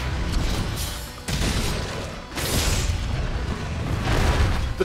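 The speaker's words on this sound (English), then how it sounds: "Utilize the guard shot to unload a burst of slinger fire from behind your shield." A lance guard shot unloading a burst of slinger fire from behind a shield in Monster Hunter World: Iceborne, heard as a dense, rumbling roar of booming blasts that swells in several waves, loud and continuous, with no talking.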